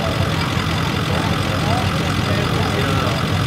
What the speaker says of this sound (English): We just put a chip on it last night and we wanted to see what it do on the dyno.